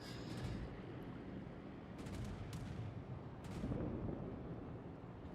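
Battleship main guns firing in the naval video game World of Warships, from a British Warspite: a continuous roaring rumble of heavy gunfire and explosions with a few sharp cracks, loud and dense throughout.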